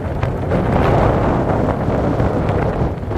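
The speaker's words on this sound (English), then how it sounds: "This wind feels pretty good." Steady, loud wind buffets a phone microphone during an outdoor jog, a continuous low roar that rumbles and flutters without a break and masks everything else.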